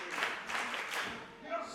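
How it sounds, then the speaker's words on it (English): A London crowd cheers at a pro wrestling match, a roaring swell of voices and some clapping, moderately loud and distant, rising and falling in waves. "you can hear this London crowd largely on the side of Kanji"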